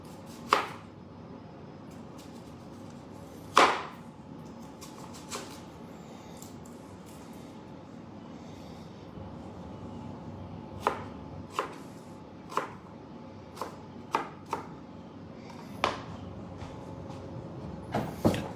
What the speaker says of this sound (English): now we've got our onion cut up. Put that back here on the chopping board.